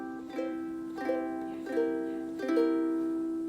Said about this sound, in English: with this strum, we're just going to use the fleshy part of our thumb